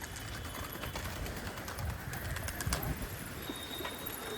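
Male pigeons out on a long rooftop, with soft cooing and wing flutters mixed into a steady outdoor background.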